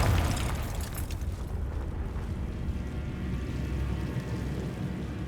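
A Confringo fire spell detonates in Hogwarts Legacy, opening with a sharp blast that settles into a rumbling, roaring explosion tail, fairly faint overall.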